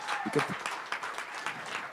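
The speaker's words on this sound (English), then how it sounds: "Let's give a round of applause for Dominic Davis" A graduation audience breaks into brief, steady applause, moderately distant, with a voice briefly audible at the start.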